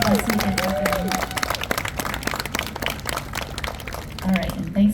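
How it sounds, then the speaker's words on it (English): A seated audience claps steadily at a community event about entrepreneurship academies. The applause is moderately loud and sustained, with a voice briefly audible near the start and again at the end. "So let's give them all a round of applause."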